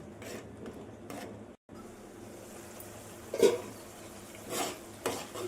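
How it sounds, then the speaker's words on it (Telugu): Egg keema masala curry is stirred in a pan, soft scraping and a few clinks of a spoon against metal over a quiet sizzle. "మొత్తం బాగా కలుపుకొని ఆయిల్ పైకి తేలేదాకా ఉడికించుకోవాలి"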